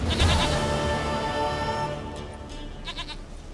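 A goat in The Witcher 3 bleats once, a loud, wavering, close cry that fades over a couple of seconds, followed by faint game ambience.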